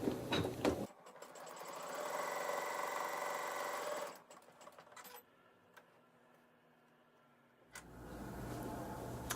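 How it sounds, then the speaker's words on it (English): A sewing machine stitches a fabric seam for a Dresden quilt block, with a steady motor whir running for several seconds, a pause of quieter, lower hum, then a short burst of stitching resuming close and alone. "the machine sews the seam"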